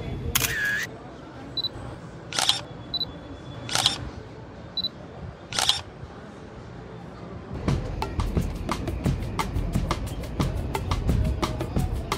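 Several crisp camera shutter clicks fire one at a time, spaced a second or two apart, then a rapid burst of repeated shutter releases follows, close and clear over a lively carnival-like background in Brazil.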